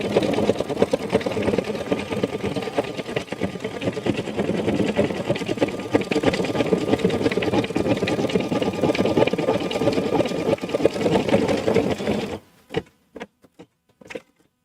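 Embroidery machine stitching a gift card holder, a steady rapid mechanical buzz of the needle running continuously up close for about twelve seconds before stopping, followed by a few brief clicks.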